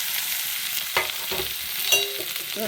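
Sliced onions with curry leaves and mustard seeds sauté in a pan for chapathi noodles, a steady sizzle broken by a few scraping stirs of a spoon against the pan.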